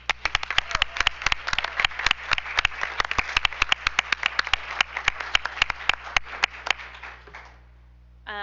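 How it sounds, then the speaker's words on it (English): Applause for monthly award winners at a school district board meeting, a room of hands clapping steadily and close for about seven seconds before it stops abruptly. "If we can give one last round of applause for them."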